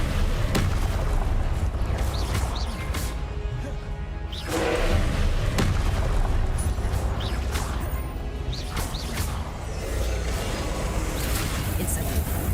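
Fire spell Incendio cast again and again in Hogwarts Legacy, giving a dense run of crackling bursts and thumping impacts over a steady roar, loud and close throughout.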